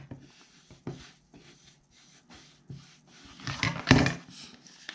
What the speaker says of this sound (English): I'll just use my big old spatula to get everything the way that it should be. Go in there and get those spines very nicely defined.